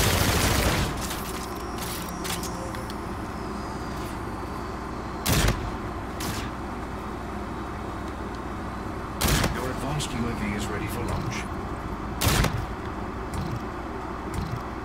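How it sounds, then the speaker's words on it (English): Sniper rifle shots in a video game, three or four sharp single cracks spaced seconds apart over a steady background rumble, with a voice talking intermittently. "a little sniper action for you"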